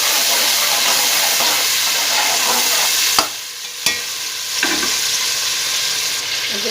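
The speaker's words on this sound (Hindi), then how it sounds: "अदरक लहसुन को मैं हल्का ब्राउन करूँगी, लाइट ब्राउन।" Ginger and garlic sizzle loudly in hot oil in a pot, a constant frying hiss broken by a few sharp knocks of a spoon stirring against the metal.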